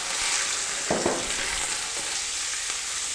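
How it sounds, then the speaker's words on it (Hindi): Chicken and onion sizzle in a pan over low heat, a steady broadband frying hiss with a few soft stirring scrapes near the middle, close and continuous for about three seconds. "चिकन और प्याज को हमने 1 मिनट तक हल्की आंच पर भून लेना है"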